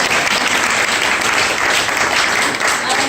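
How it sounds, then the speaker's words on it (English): An audience at a university language showcase claps steadily, a dense, even wash of applause filling the room for a few seconds. "I'll make you applaud a lot"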